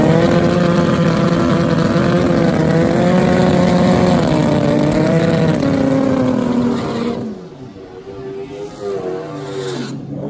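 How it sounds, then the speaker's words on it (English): Suzuki Hayabusa street bikes make a drag racing pass at the Santa Pod European finals, a loud high-revving engine howl with rising gear-change sweeps that fades as the bikes pull away, leaving crowd ambience. "Too fast, Suzuki Hayabusa."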